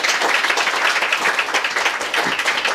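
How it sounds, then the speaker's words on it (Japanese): Audience applause closing a lecture on law and artificial intelligence, steady dense clapping held at an even level for about three seconds, with no talk over it. "改めまして水野先生に拍手をお願いいたします。"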